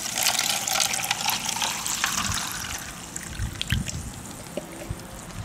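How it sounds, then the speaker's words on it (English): Warm water pours into a container holding hydroponic nutrient mix outdoors, a close trickling, splashing stream that runs steadily and slowly eases off, with no talk. "we can go ahead and add some warm water"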